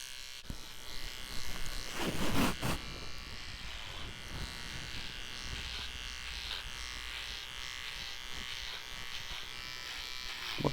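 A tiny electric grooming trimmer hums steadily and close up, a continuous bright buzz that holds level for the whole stretch, with a few louder scraping moments near the start as it works through hair.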